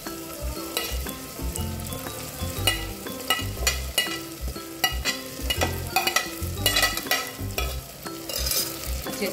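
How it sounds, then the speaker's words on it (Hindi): Potatoes fry and are stirred in a pan, a busy close-up sizzle broken by repeated scraping and knocking of a spatula against the metal in an irregular rhythm. "आलू डालेंगे।"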